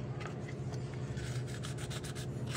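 Quick, repeated rasping strokes of sandpaper scraping against a metal brake caliper, close and steady, with no talking.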